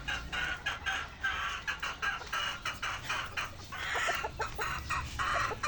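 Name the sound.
chickens clucking in a small backyard chicken coop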